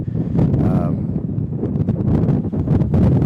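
Strong wind buffets the microphone in a constant low roar at a baseball field, with gusty swells and a voice talking underneath.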